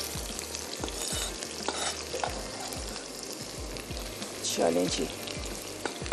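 Onions fry in oil in a pan, sizzling steadily while a spoon stirs and scrapes in a regular rhythm, close by, with a brief spoken phrase over the cooking.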